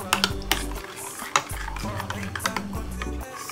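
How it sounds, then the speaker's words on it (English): Ingredients with cinnamon powder stirred together in a bowl, giving repeated clinks and scrapes of a utensil against the dish, close and moderately loud, with a low hum underneath. "Then you mix them together. Mix very well"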